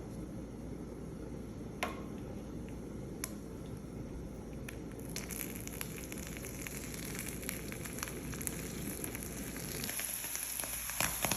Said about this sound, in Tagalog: Hiwain ako sa pan ng olive oil at ilalagay ko itong grilled cheese.